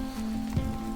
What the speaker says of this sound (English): Raining, but Yeah, it's really coming down.